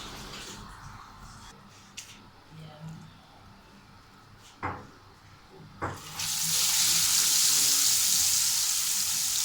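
Cooking oil is poured into a pan on a stove before fish is fried, set off by a few clicks and clatters of kitchen handling, after which a loud, steady hiss takes over and keeps going to the end.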